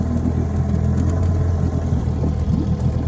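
Vintage 1958 Johnson 7.5 HP outboard motor running on a lake, a steady, loud, continuous low engine drone with a rough idling texture throughout.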